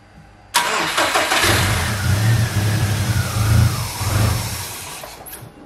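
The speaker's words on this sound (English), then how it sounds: "the car turns over and it turns on fine, but it's not staying on because there's a bunch of vacuum leaks" A car with several vacuum leaks cranks over and catches, the engine firing abruptly after a brief quiet start, then idling roughly and revving unevenly close by for several seconds before it fades and dies near the end.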